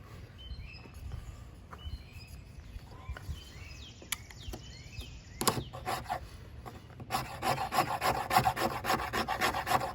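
A blade scrapes shavings off Tulip Poplar wood for ferro rod tinder, quiet rasping strokes outdoors that grow into a denser, faster run of scraping, with birds chirping faintly in the background.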